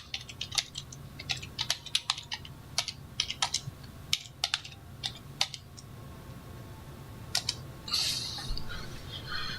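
Typing on a computer keyboard, quiet and close, with bursts of quick clicky keystrokes separated by short pauses over a low background hum, ending in a softer scuffing sound.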